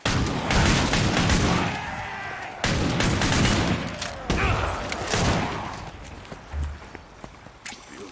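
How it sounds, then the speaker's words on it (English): Gunfire from a gunslinger's weapons in Killing Floor 2, on the Black Forest map on Hard difficulty: loud clustered shot bursts with footsteps, separated by brief pauses and fading to scattered quieter reports near the end. "I aim. I shoot."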